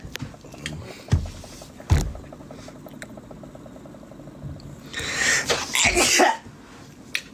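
A few close sneezes and throat-clearing bursts come out in sharp separate spurts, followed by a louder, breathy burst near the end.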